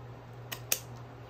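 Scissors cut wired ribbon for a Christmas gingerbread craft, two quick faint snips close by against a quiet background hum.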